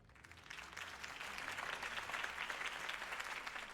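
Crowd applause for Harvey Dent after his campaign speech in Batman: The Telltale Series, a dense steady wash of clapping that swells within the first half second and holds loud and even to the end.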